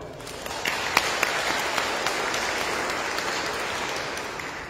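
A congregation claps during a Sunday Eucharist service in a church in Waalre, a sustained round of applause with a few sharper individual claps standing out, reverberant and moderately distant.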